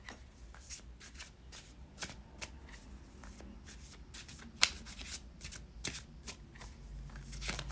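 A deck of tarot cards is shuffled by hand in a quiet room, a steady run of soft riffling and flicking bursts with one sharper snap near the middle, no voices.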